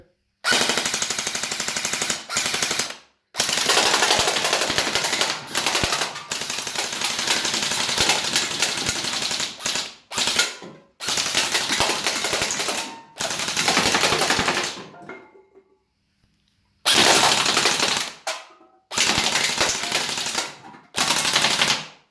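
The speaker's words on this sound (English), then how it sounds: "All right, so drum mag, full auto." A Well M401 foam blaster fires full auto from a drum magazine in loud, rapid mechanical bursts, several long strings broken by short pauses and near-silent gaps, very close.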